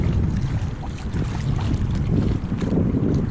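Steady light wind buffets the microphone while a Hobie Adventure kayak sails in a breeze of about five miles an hour, a continuous low rushing with soft water sounds and no voices.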